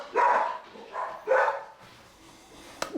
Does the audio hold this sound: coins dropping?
no